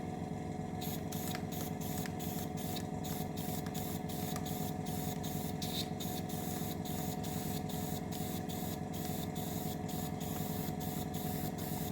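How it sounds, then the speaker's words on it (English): Airbrush or spray can hissing as a light dust coat of paint goes onto a model of HMS Queen Elizabeth, a steady close hiss broken by short rhythmic bursts as the spray is pulsed. "So I'm going to dust coat it first."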